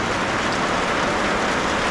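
Heavy rain suddenly pouring down during an afternoon bike ride in the Philippines, a dense, steady, loud hiss of drops hitting surfaces that fills the whole stretch without pause.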